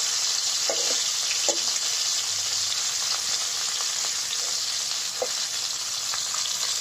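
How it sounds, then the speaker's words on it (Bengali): Fish fries in a hot pan with oil, a loud, continuous bright sizzle with a few soft clinks, no talking. "মাছগুলো একটু লাল লাল করে ভেজে নেব"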